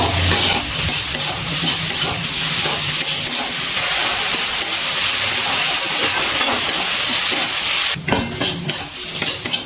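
Turmeric, Kashmiri chili powder and salt fry in a pan. A loud, steady sizzle and hiss continues throughout, close by, with stirring scrapes and a brief sharper burst near the end.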